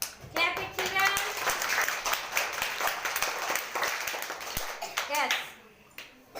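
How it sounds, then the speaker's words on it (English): A class of children claps together in a classroom during a passing-the-parcel game, giving a dense, steady patter of many small hands with young voices mixed in and a brief lull near the end. "Clap it, children."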